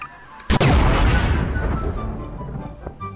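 Bazooka fired in Garry's Mod: a single loud blast with a sharp onset, followed by a rumbling decay that fades over about two seconds.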